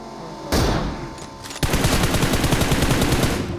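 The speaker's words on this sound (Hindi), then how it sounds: "यहाँ पे काफी ज्यादा गोली चलाते हैं लोग" Rapid automatic gunfire bursts in the video game BGMI, loud and close, with a brief pause before a sustained stream of fast shots; no talking.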